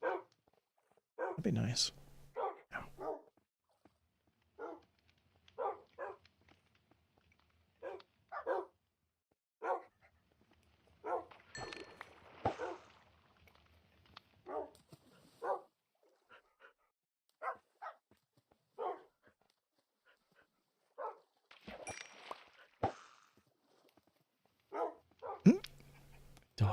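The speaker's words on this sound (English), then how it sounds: "Dog just swimming in the ocean." Minecraft dog barking and whimpering in short bursts spread across the stretch, fairly close, with a person talking intermittently between and over the sounds.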